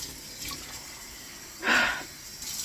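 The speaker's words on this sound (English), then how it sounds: "Water is going into this pan, and I'm going to simmer it." Water splashes into a cooking pan of lentils in a home kitchen, a single short pour swelling and fading over a faint background hiss.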